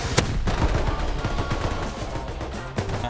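Video game gunfire rattles steadily, a dense stream of rapid shots with a few sharper cracks standing out, loud and close with no talking.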